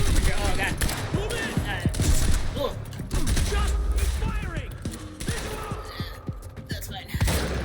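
Gunfire in the video game Quantum Break: repeated sharp shots and bursts amid loud, dense combat noise and clanks, close and busy, with a voice shouting over the action.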